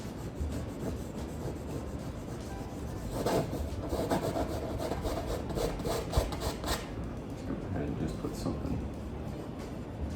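A palette knife scrapes excess paint across a wet-on-wet landscape canvas, giving steady rasping, rubbing strokes that run close and continuous throughout, with a denser burst near the middle.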